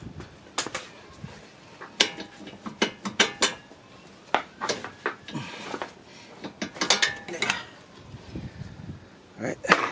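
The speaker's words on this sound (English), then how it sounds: "Now we can remove the bolt." A ratchet works a bolt loose during a driver-side CV axle replacement on a 2011 Toyota Sienna. The clicking and metallic clatter come in irregular bursts, close by, and someone speaks briefly between them.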